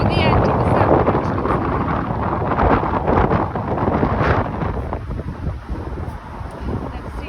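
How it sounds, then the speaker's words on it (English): Gale-force wind on an open coast path near Chepstow batters the microphone with a loud, constant roaring buffet that never lets up. "Really windy. Blowing a gale, obviously."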